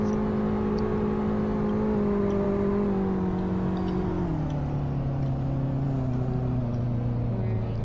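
BMW inline-four car engine in Roblox Greenville, a loud continuous drone that holds steady, then drops in pitch midway as if shifting or easing off, running alone without talk.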